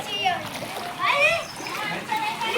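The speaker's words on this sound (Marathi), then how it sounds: "हा बघा एक पारी क्रॉस होऊन दुसऱ्या पारीला पाणी गेलं बघा" Floodwater after heavy rain splashes and flows over a village house's steps nearby, with voices talking over the rushing water.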